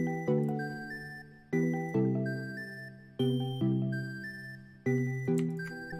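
Layered hyperpop synth chords pulse in a steady pattern while a high, glassy lead melody rings over them, bright and electronic, no voices.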